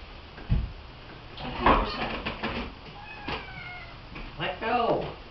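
A cat meows in several short calls spread across a few seconds, fairly faint and close, mixed with a person talking and some handling noises.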